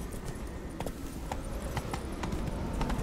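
Roach, Geralt's horse in The Witcher 3, gallops along with a steady, quick clip-clop of hooves, fairly faint and continuous under game ambience.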